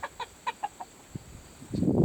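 Chickens cluck in a quick series of short calls nearby, then a brief rustling noise at the end.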